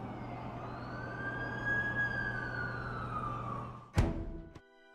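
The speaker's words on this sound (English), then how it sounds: "That's the ambulance I called." Ambulance siren in The Amazing Spider-Man 2 video game, a rising and falling wail sweeping past at moderate distance over a low steady hum, ending in a sharp impact-like thump and a brief click.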